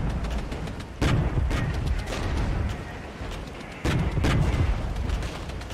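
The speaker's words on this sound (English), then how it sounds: "Like the napalm plus the mortar, right? Slowly heating up the T-72s." Napalm and mortar strikes against T-72 tanks in the Regiments strategy video game: repeated booming impacts and crackling explosions at irregular intervals, with two louder blasts over a continuous rumble of battle.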